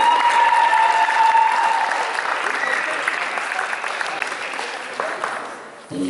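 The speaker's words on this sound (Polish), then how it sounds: "Gratulacje i brawa jeszcze raz dla Julki" Spectators at a girls' under-16 football championship award ceremony applaud a prize winner, a steady crowd clapping that stays full for several seconds and then gradually tapers, with faint voices mixed in.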